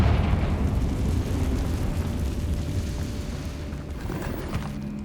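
A Confringo blasting spell in Hogwarts Legacy sets off a heavy, rumbling explosion that opens loud and roars on for several seconds as a low, slowly fading boom.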